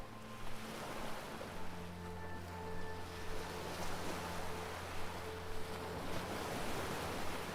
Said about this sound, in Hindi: सूरज की किरणों से चमकते समुद्र के पानी को देखें।